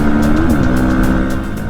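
A 2023 Bajaj Pulsar NS160 motorcycle with a four-valve, twin-spark engine revs hard and close. A steady, loud mechanical drone climbs in pitch partway through.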